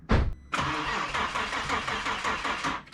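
Cranking engine of an Audi B5 S4 car: a brief starter burst, then a steady rhythmic churning crank for over two seconds that stops without catching, loud and close, with no talking.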